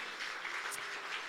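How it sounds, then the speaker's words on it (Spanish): Church congregation clapping in praise, a steady, diffuse wash of many hands heard from some distance for a brief moment. "dale un aplauso al Señor"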